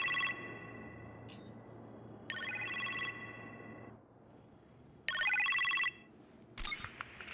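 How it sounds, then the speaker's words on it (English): A telephone rings in a kitchen in the game Iron Man VR, in electronic bursts: two long trilling rings with a short chirp between, then a sharp click near the end, with a low hum throughout. "You appear to have a phone call in the kitchen"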